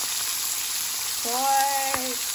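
A pork chop fries in a pan at a home stove, giving a steady, moderately quiet sizzle throughout, with a brief tonal sound rising over it near the end.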